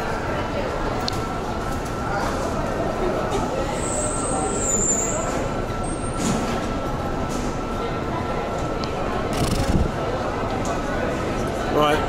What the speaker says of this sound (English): so I've got to take the train